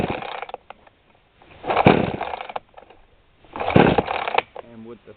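A brand-new 20-inch chainsaw gets a pull-start attempt: two loud, rough bursts of cranking and sputtering, each roughly a second long, separated by quieter handling noises, ending in a short rattle.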